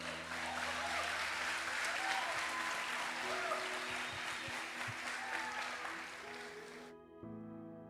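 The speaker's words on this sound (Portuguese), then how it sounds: "Só os que creem, aplaudam o Senhor aí." Church congregation applauding the Lord during a sermon, a thick sustained wash of clapping with a musical keyboard drone underneath, cutting off sharply near the end to leave the held tones alone.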